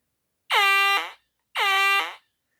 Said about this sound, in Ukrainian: Червоний абонент може його визвати. Ось кнопочка визова. Нажимаємо.